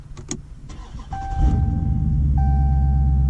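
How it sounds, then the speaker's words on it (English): A car engine cranks and catches after a few clicks and door or cabin sounds, then settles into a steady, loud idle rumble with a faint whine running over it. "let me turn the car on for you guys"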